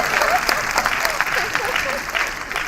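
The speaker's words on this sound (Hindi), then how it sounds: "ताली बजाओ भाई" An audience claps throughout a cultural lecture on Shakti in folk tradition, a fairly loud ragged applause with a voice or two briefly audible underneath.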